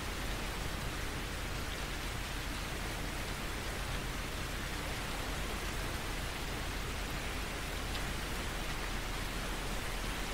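Rain in the video game Stormworks, heard as a steady, dense hiss of falling rain filling the whole stretch evenly, with no talk over it.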